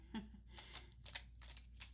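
Tarot cards are shuffled by hand in several soft, rustling bursts, close and quiet, with a little faint talk in the background.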